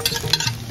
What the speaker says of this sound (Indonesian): Kita goreng terinya dulu ya, nih api minyaknya udah panas.